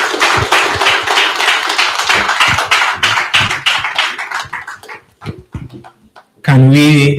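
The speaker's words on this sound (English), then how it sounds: "Can we clap for our chairperson again?" An audience at a World Veterinary Day 2026 event claps in a dense burst of applause that gradually thins to scattered claps and fades out, followed by a loud burst of voice.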